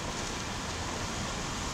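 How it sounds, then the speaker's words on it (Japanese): Steady rain, the first in a while, falls in a dense, even wash of noise, close and unbroken for under two seconds with no voices. "久しぶりの雨で"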